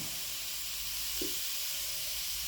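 Browned onions and fenugreek frying in a pan give a steady, faint sizzle and hiss, with a soft brief flare partway through.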